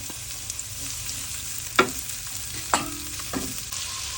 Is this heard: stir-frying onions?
yes